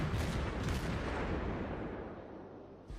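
Naval gunfire from a Tier 5 Omaha cruiser in the World of Warships video game, a dense, continuous rumble of heavy shots and booms that fades slightly before a final thump.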